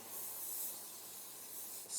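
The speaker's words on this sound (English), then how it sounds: "spray with a spray adhesive" Spray adhesive hisses from an aerosol can onto an album page during mini album crafting, a steady, faint continuous spray lasting about two seconds with a brief louder burst at the end.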